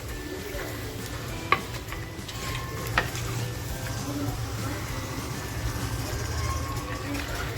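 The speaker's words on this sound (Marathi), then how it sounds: "आपल्याला सतत आहे ना हे मटण हलवत राहायचे म्हणजे फिरवत राहायचे" Mutton fries in a pan for a village-style Maharashtrian curry, a steady close sizzle with scraping stirring strokes and a couple of sharp utensil knocks, under faint background voices.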